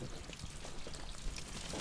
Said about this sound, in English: So we've got to let the water out now.